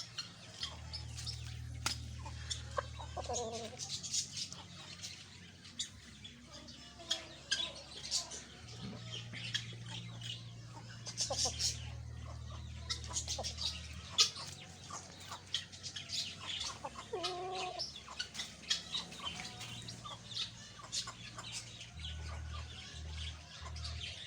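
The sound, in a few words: Aseel lasani rooster clucking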